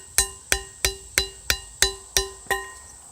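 Copper blade being beaten into shape with a hammer, eight sharp ringing metallic strikes at a steady rhythm about three per second, close and clear with short decaying rings.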